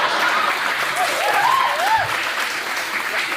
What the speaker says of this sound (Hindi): इस बात पे ताली नहीं बजानी थी